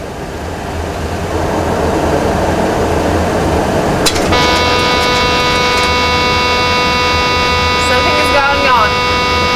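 Boeing 737 cockpit warning horn in a flight simulator game during a night landing approach, a steady loud tone sounding continuously from about the midpoint over a constant engine and air hum, with a faint background voice.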